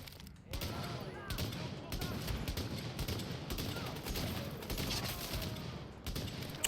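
Dense gunfire in The Division, a French let's play featuring Charles Bliss's LMG, with sustained bursts of shots and mechanical clatter running loud and continuous throughout.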